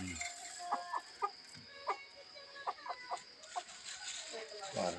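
Chickens cluck and call in short bursts at an early morning feeding while it is still dark, irregular nearby clucks with a rooster-like note, and a person talking now and then.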